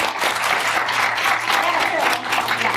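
An audience at a film festival screening gives steady, dense applause that fills the whole stretch, with speech faintly mixed in underneath.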